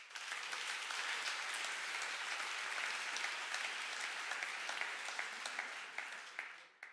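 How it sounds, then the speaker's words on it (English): Dense, steady applause fills a large hall at a hackathon opening ceremony, heard from a distance, holding even for several seconds before tapering off near the end. "So big round of applause for them."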